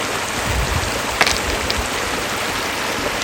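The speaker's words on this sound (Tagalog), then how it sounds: "nakaka-relax po mga kaginang buhay yung lagaslas ng tubig" A rocky stream flows steadily with a dense, continuous rushing and babbling, close and fairly loud, with no voices.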